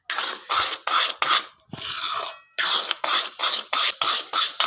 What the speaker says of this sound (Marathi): कुटून घ्यायची आहे विलायची